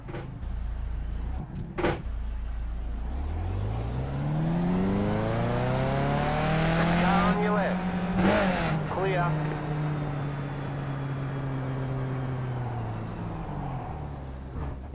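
A damaged Skip Barber race car in iRacing at Spa limps into the pits, its engine note rising and falling through gear changes over fifteen seconds, with someone speaking over it.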